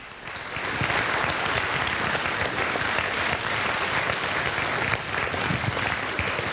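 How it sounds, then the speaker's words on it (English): A standing ovation for families at an 8th grade promotion ceremony: dense, sustained clapping from a large crowd that swells in quickly and holds at a steady, loud level. "why don't we stand up and give our families a nice round of applause, a standing ovation"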